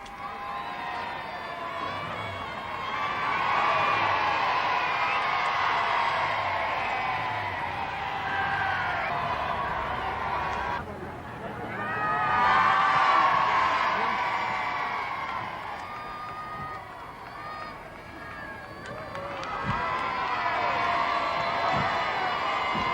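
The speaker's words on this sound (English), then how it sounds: "the forecourt was again crowded to the maximum to cheer them on the way" A large crowd packs a station forecourt late at night, cheering and shouting for the departing Queen and royal party on a 1977 Jubilee tour, with a sustained roar that swells and dips, children's voices and whoops rising above.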